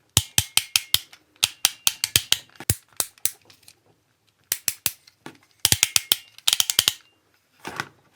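Transformers Energon toy joints ratcheting through a transformation, sharp plastic clicks in quick bursts of several, with pauses between runs, close and alone.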